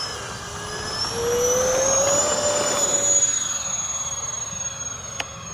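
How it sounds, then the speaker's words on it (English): Twin 70mm EDF RC A-10 Thunderbolt V2 model jet taking off, a loud steady ducted-fan whine rising in pitch as power builds, then holding and easing slightly as it moves off. "One more takeoff and landing."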